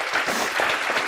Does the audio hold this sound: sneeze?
no